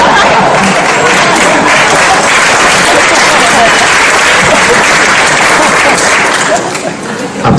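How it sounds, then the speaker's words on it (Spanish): Loud, sustained applause from a seminar audience at a business presentation, dense crowd clapping filling the whole stretch before easing off near the end. "Aplaudan todos, por favor"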